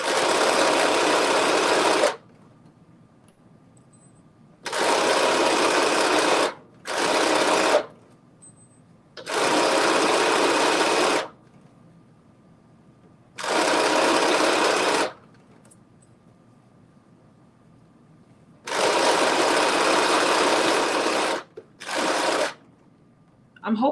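A home sewing machine stitches the final section of a skirt in repeated loud bursts of several seconds each, separated by short silent pauses.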